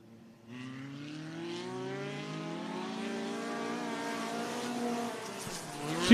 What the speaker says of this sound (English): Two cars in this hot lap session.